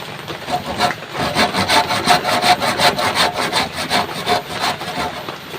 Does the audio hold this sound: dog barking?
no